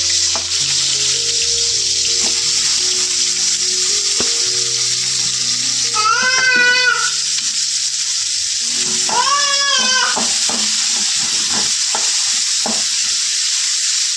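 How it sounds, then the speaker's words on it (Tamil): Green chillies fry in a pan with a steady hiss under scattered soft utensil clicks. Two short, warbling tonal sounds break in partway through. "பச்சை மிளகா போட்டு இந்த மாதிரி ஃப்ரை பண்ணால் ரொம்ப பிடிக்கும்"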